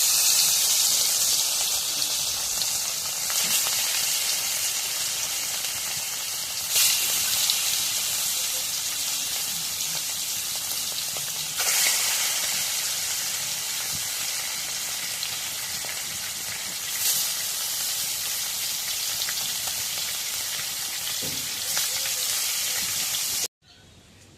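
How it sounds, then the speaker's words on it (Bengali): Marinated fish sizzles steadily in hot oil, a loud, dense frying hiss sustained close by with a few brief crackling bursts before cutting off abruptly at the end. "এখন মাছগুলো দিয়ে দিই তেল গরম হয়ে গেছে"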